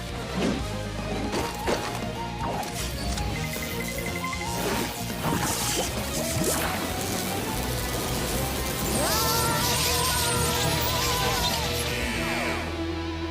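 Someone thrashing and splashing in water: repeated irregular slaps and sloshes, close and fairly loud, broken by bursts of other noise and a brief voice-like sound near the end.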